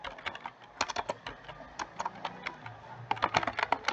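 A district name is typed on a computer keyboard in quick, uneven bursts of crisp keystrokes, close and clear with short pauses between groups.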